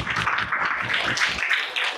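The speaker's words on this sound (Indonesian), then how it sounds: "Tepuk tangan untuk kita semua." A school class applauds at the end of a lesson, a dense patter of many hands clapping nearby that fades slightly toward the end.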